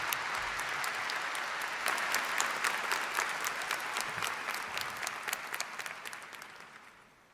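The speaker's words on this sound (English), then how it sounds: "Please join us in a round of applause." A commencement audience applauds graduating psychology students, steady mid-distance clapping from a large crowd that swells, holds, then thins into scattered claps and dies away.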